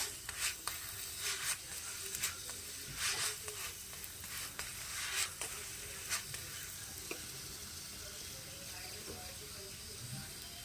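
Paratha stuffed with green peas fries in oil in a pan, giving a steady soft sizzle with occasional crackles and spatula scrapes, fairly close and quiet.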